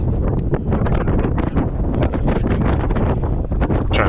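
Strong wind buffets the microphone on an exposed cliffside at Garvin Heights in Winona, Minnesota, a loud continuous roar with gusting rumbles throughout.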